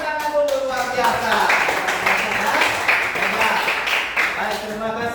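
A primary-school class applauds together during a family-themed religion lesson, steady clapping from many hands filling the room for several seconds, with voices mixed in.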